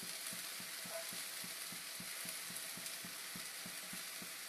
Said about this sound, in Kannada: ಈರುಳ್ಳಿ ಫ್ರೈ ಆದ್ಮೇಲೆ ಕಾಳು ಹಾಕಬೇಕು. ಕಾಳಕ್ಕೆ ಸ್ವಲ್ಪ ಫ್ರೈ ಮಾಡ್ಕೋಬೇಕು.